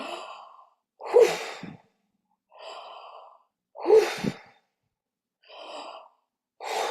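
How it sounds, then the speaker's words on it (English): Energizing power breath during a yoga session: a rhythmic run of forceful, sharp breaths, each strong exhale alternating with a softer, quieter intake, close and clear with no talking. "We're going to lift our arms up for our power breath."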